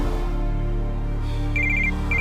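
A phone rings with short electronic trilling bursts, twice, over a steady low background hum.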